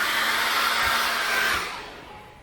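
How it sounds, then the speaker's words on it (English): A hairdryer blows steadily to dry acrylic paint on a seascape painting, a loud continuous airy whoosh with a faint motor hum that tapers off slightly toward the end, no voices. "I'm going to dry that very quickly again with a hairdryer"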